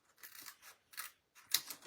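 Scissors snip along paper edges while trimming strips thinner for a handmade scrapbook album, several short close cutting bursts with brief pauses between them, quiet and with no talking.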